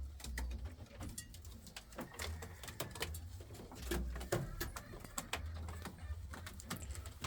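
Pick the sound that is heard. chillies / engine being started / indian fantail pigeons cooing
indian fantail pigeons cooing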